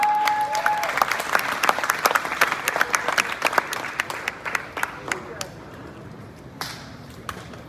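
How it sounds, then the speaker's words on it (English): A crowd at a Lunar New Year community event in Queens, New York applauds with a burst of clapping that gradually thins out and fades toward the end. "Let's give him a round of applause."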